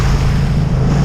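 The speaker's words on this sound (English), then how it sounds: "The waves are still very, very heavy going." Heavy sea waves rush and churn around a small boat running with the swell near Cowes, Isle of Wight, a dense, continuous wash over a low engine drone.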